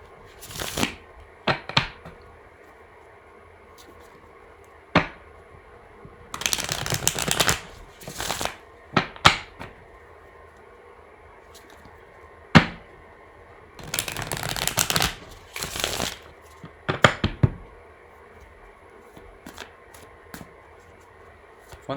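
Tarot cards being shuffled in repeated bursts of riffling and flicking, with quiet pauses between, close and clear over a faint steady background hum.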